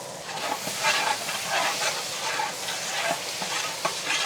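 Ginger garlic paste hits hot oil in a pan and is stirred, giving a steady close sizzle and hiss with soft scraping strokes, no talking.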